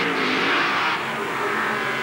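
Monster trucks racing side by side in round one competition at Indianapolis, engines roaring loudly with a surge of acceleration, continuous and close.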